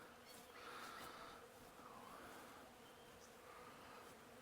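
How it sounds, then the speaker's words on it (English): Bees buzz steadily around a flowering tree on a farm, a soft continuous drone with individual insects drifting closer and away, fairly faint with outdoor background. "the bees are kind of going to town on this tree"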